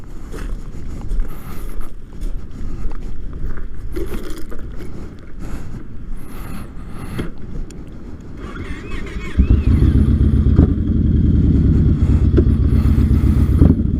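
Yamaha Raider motorcycle on a ride, steady engine and wind rumble throughout, growing louder and fuller with rising throttle in the second half, close to the rider.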